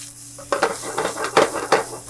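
Mushrooms sizzle in a hot pan during a cooking demonstration as a spoon stirs them, with several distinct scraping strokes rising over a steady close frying hiss.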